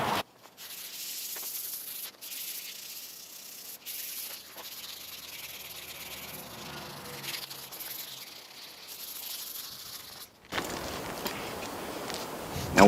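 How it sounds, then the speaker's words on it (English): Hand sanding with fine-grit sandpaper or Scotch-Brite pad while prepping a surface for primer: steady, close scratchy rubbing strokes that continue for several seconds, pause briefly and resume, with no talking. "You can either use a tighter grit sandpaper, or you could hit stuff like this with Scotch-Brite."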